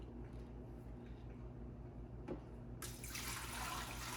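Water pours steadily into a Keurig K-Elite coffee maker reservoir, beginning as a quiet trickle and then surging into a louder, fuller rush partway through.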